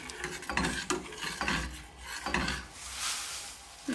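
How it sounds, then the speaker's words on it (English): A thickening sauce stirred in a pot during a home Christmas lunch cook in Mallorca: rhythmic scraping and swishing strokes of a spoon against the pot, close and steady with a faint sizzle, no voices. "So stir for 15 minutes."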